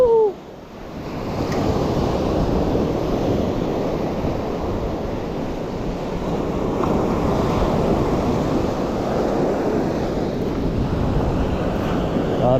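Big ocean waves surge and crash continuously along a fishing shore, a dense, roaring wash of surf mixed with buffeting wind noise on the microphone, steady and loud throughout.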